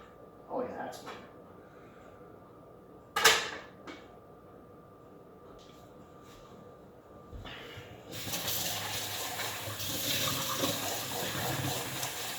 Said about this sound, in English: You can put just a little splash of water in the pan and cover it.